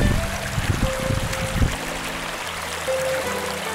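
Water trickles and gurgles over a small homemade waterfall in a taiga stream, a steady close splashing flow with faint background hum.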